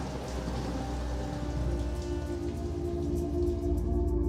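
Steady rain falls as a sound effect in a narrated Filipino horror story set in a rural village, a dense continuous hiss of drops with a low rumble beneath, and no voices.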